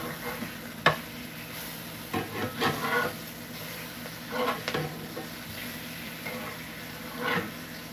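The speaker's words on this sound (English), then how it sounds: "Our onions are cooking really well." Onions fry in a pan on the stove under a steady sizzle, with intermittent scraping and stirring sounds as they cook.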